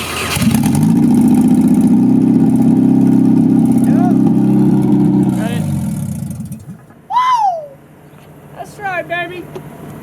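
A Nissan KA24DE-T turbo engine with a bad turbo gasket runs loudly up close on open headers, with a rough, throbbing idle that fades after about six seconds, followed by squeaks and a voice.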